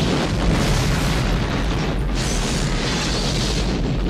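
A gasoline trail explosion from a film plays as a loud, sustained booming roar with dense crackling rush throughout, thick and continuous with no talk.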